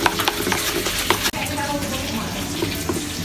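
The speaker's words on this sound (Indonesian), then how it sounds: "so kita mula menggoreng. Minyak pun dah panas." Sambal fries in hot oil with a steady, dense sizzle and occasional stirring scrapes, close and fairly loud throughout.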